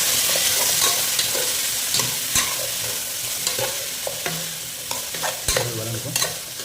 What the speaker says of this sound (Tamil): வதங்கட்டும். கொஞ்சம் ஃப்ரை ஆகும்.